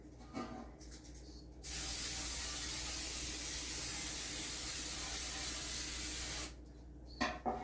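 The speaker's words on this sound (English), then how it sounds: "I'm going to spray this one a little bit more" A steady aerosol baking spray hisses continuously into a bread pan for about five seconds, preceded and followed by brief clicks and handling noises.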